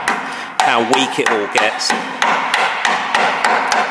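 Hammer blows ring out against the steel crossmember of a 1971 Corvette Stingray during a body-off restoration. The impacts come in a steady series of about a dozen loud, sharp metallic hits, with someone speaking briefly between the early strikes.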